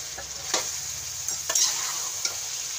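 Chicken karahi with crushed dried fenugreek and spices sizzles in a pan while a spoon stirs it, a steady close frying hiss broken by several scraping strokes.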